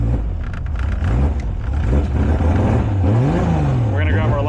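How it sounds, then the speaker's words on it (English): A Toyota Supra engine fires up and settles into a steady, loud idle, a low drone with rising and falling pitch that hums continuously throughout. "if all goes well, the car should start. All right, so car starts."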